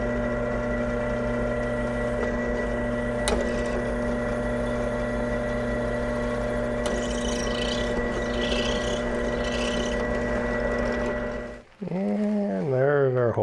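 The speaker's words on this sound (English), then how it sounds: "we'll go take it over to the drill press and drill a hole in our little mounting bar bracket" Steady, loud mechanical hum of a drill press boring a hole through a small metal mounting bracket, its drone holding evenly before cutting off near the end, followed by a brief rising whine.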